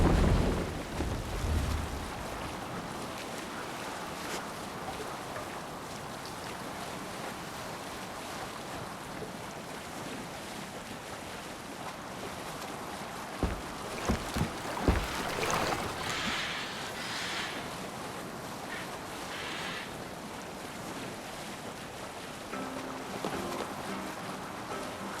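Viking longship under sail across open sea in Assassin's Creed Valhalla, a steady broadband wash of waves and wind against the hull, with a few soft thuds and creaks near the middle, no voices.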